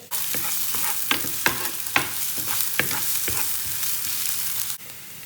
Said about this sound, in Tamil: ஒரு கொஞ்சமாக எண்ணெய் விட்டுருக்குறேன் இப்போ வெங்காயத்தையும் போட்டு